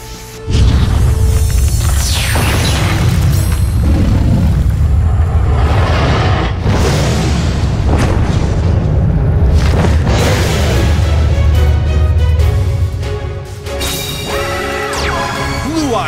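A heavy, sustained booming roar with whooshing swells marks the summoning of Blue-Eyes Alternative White Dragon in the Yu-Gi-Oh! Duel Links card game. It stays loud and dense, then eases slightly near the end.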